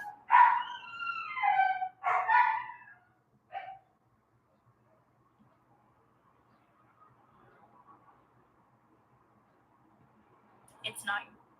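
A neighbor's dog kept in an apartment hallway gives a few yelping, whiny barks in quick succession at the start, then falls quiet before one more short burst near the end, heard at a moderate distance.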